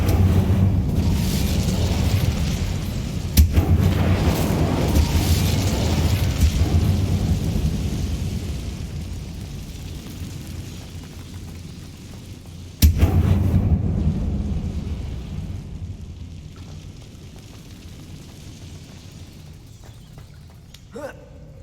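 Incendio fire spell blasts in Hogwarts Legacy, with a sharp crack, a roaring rumble that fades, then a second loud crack and a long decaying rumble.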